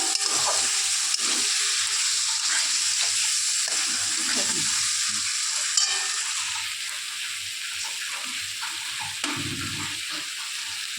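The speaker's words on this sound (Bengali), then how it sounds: "আর সামান্য একটু মিষ্টি দিয়ে এভাবে নাড়াচাড়া করে নেব।" Pointed gourd stirred with a little sugar in a frying pan, with a continuous hissing sizzle and soft, shifting stirring sounds.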